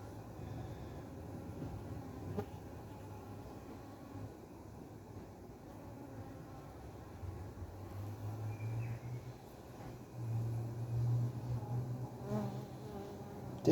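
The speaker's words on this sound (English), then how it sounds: "Definitely fanning that entrance now. You can see them all at the entrance there, fanning away." Stingless bees fanning at a hive entrance, a faint, continuous low buzzing hum that swells slightly toward the end, steady and without talk.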